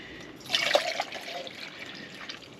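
Water is poured into a pot at a winter hot-tent campsite, a short splashing trickle that swells, then tapers to a light dribble, close and fairly quiet.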